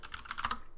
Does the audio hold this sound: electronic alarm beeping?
no